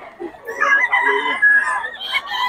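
A young stag rooster crows loudly and close, with a drawn-out call broken by a few clucks, heard briefly and clearly.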